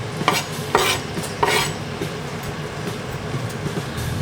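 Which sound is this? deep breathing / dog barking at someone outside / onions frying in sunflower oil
onions frying in sunflower oil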